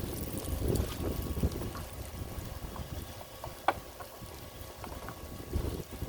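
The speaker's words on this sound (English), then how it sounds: "The wind's blowing it right off the griddle." Wind gusting outdoors around a propane griddle turned up to high, a steady rushing blow with low rumbling buffets and a brief sharp knock midway, no voices.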